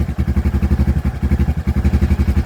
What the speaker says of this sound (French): Il fait un beau bruit, je trouve, un beau bruit de quad monocylindre à 4 temps